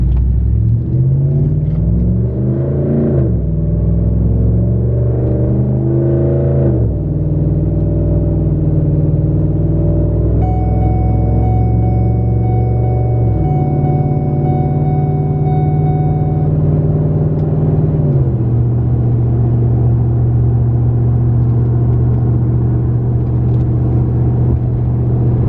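A lifted Ford F-150 pickup fitted with a Pedal Commander throttle controller and 26x14 wheels accelerates, its engine rumbling steadily and rising in pitch through several gear shifts, loud and close throughout with no talking.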